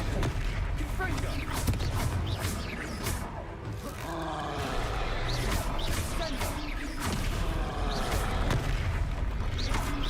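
Confringo fire-blast spell explosions in the video game Hogwarts Legacy, repeated loud booming blasts and impacts during a troll fight, mixed with grunting roars and dense continuous battle noise.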